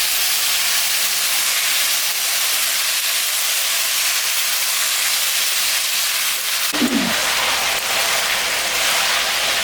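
Bitter gourd frying in fish oil makes a loud continuous hissing sizzle that flares briefly near the end as something is added to the pan.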